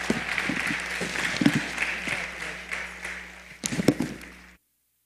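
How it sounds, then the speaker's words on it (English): A crowd at a high school graduates' awards ceremony applauds a graduate with moderate, loosely scattered clapping and some louder individual claps, and then the sound cuts off abruptly into silence. "Give everybody a round of applause."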